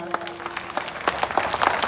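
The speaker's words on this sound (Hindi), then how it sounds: "प्लीज जोरदार तालियां एक बार" An audience claps for the play Parindey by the Thespians group, a dense patter of many hands that starts moderate and grows fuller and louder over two seconds.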